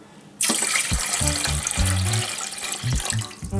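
Water gushes suddenly from a tap and keeps pouring steadily, splashing into a vessel below, about a litre for fish brine.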